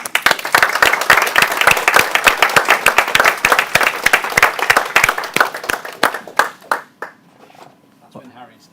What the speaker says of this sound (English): So give yourself another round of applause